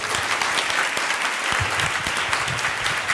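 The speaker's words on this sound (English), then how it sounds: "let's once again give a big applause for Violetta Volkova," Audience applause at a law school panel event, a dense, steady wash of clapping heard alone for about three seconds.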